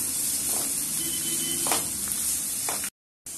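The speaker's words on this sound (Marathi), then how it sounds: "आता आपल्याला कांदा घालायचा आहे, मी एक मोठा कांदा घेतलेला आहे बारीक चिरून। छान परतून घेऊया आपण तेलामध्ये।" One large finely chopped onion frying in oil for a spicy prawn masala, giving a steady, close, even sizzle with a few brief stir crackles before a short cut to silence.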